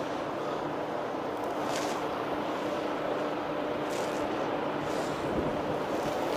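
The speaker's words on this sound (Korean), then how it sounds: "근데 바람이 많이 부네." Strong wind roars steadily into the microphone at Sinjindo Harbor in Taean on Korea's west coast, a constant loud buffeting rush with faint background noise from the harbor.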